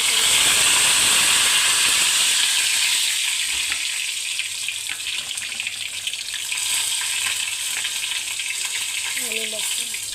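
Mustard seeds and cumin sizzle in hot oil for dal palak, a loud, steady hiss and crackle that fills the clip, easing slightly after the first few seconds.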